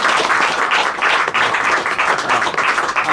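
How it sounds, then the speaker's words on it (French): An audience claps for La Bruyère at a lecture, dense loud applause that stays fairly even throughout the short stretch. "On applaudit La Bruyère."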